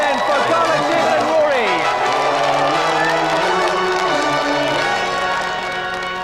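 Studio audience at a British video game TV show cheers and applauds, with whoops and crowd noise over steady clapping, loud and sustained. Music plays underneath and fades slightly toward the end.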